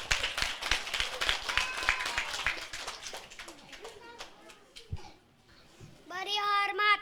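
Kindergarten children and adults clapping at a school talent event, brisk close clapping mixed with children's voices that fades out briefly before talking and singing resume near the end.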